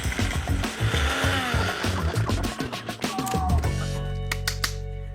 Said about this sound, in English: Saltbush macadamias. Into the blender.